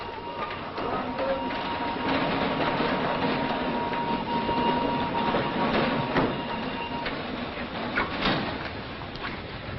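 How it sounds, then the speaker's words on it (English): A Birmingham train pulls into a station platform, a steady rumbling rail noise with clanks and wagon rattles throughout, while an announcement-style voice and faint talk sit underneath. "Porter, is that the Birmingham train? It's just coming in now, sir."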